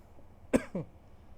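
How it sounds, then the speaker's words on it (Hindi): A short, sharp cough followed by a quick throat clear, close and fairly loud, from a man teaching an economics lesson. "अब नहीं खांसूंगा।"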